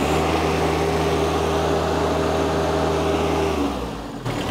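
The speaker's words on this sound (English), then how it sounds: "I'm gonna try the forward pedal. It should go all the way to 3400 RPM." A John Deere 1025R compact tractor engine runs steadily at high revs under forward-pedal auto throttle, a close, even droning hum that sags and falls away in the last second.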